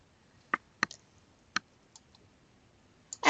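Several sharp, isolated mouse clicks spaced irregularly on a quiet computer during a nursing journal article search, with a louder burst at the end.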